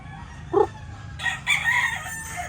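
A tall gamefowl rooster crows nearby, a short sharp note followed by a longer, strained cock-a-doodle-doo trailing off, over a low background hum.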